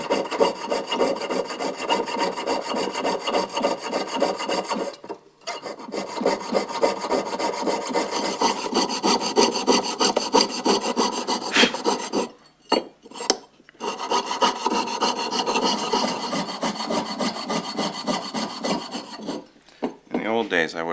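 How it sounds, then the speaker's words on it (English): Hand-sawing a small wooden acorn shape with a tensioned fine blade, rapid rhythmic rasping strokes running continuously with a few brief pauses, close and clear. "I've got to tension up the blade, and now I'm able to start sawing out"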